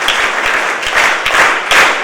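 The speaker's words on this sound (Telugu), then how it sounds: "మీరు ఒక బిగ్ రౌండ్ ఆఫ్ అప్లాజ్ ఇవ్వాలి" A big round of applause fills a college pharmacy hall at an NSS orientation program, loud dense clapping from a seated audience, sustained and close, with sharper individual claps standing out.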